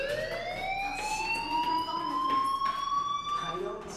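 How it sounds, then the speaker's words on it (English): A fire alarm in the Life Is Strange video game wails with a continuous, slowly rising electronic tone, loud and steady throughout, with game sounds underneath. "do you hear that fire alarm? That means you should be outside."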